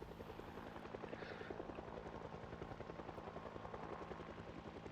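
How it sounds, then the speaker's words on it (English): In a video game, a helicopter hums overhead as a faint, steady rotor drone with a soft rhythmic chop, distant and unbroken throughout. "maybe driving around a little bit with the helicopter humming overboard"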